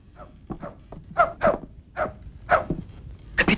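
A dog barks in an adventure film scene: several short, sharp barks come in an uneven series at moderate loudness over a low background rumble.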